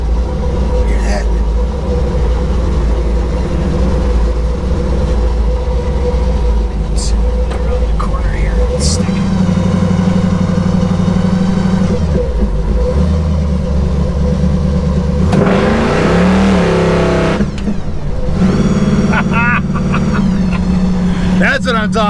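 A loud, close 1953 Willys Aero Falcon dragster engine idles roughly and revs in bursts, pitch climbing and falling, with a heavy low rumble throughout.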